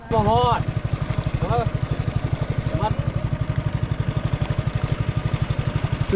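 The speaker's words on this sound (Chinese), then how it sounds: "骑在摩托车上" A motorcycle engine idling while the rider sits on the bike aboard a boat, a steady rapid putter close by, with a voice briefly talking over it.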